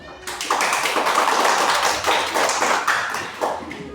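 Children clap together in a primary-school classroom, a burst of fast, overlapping hand claps that rises quickly, stays strong, then thins out, heard close with no talking.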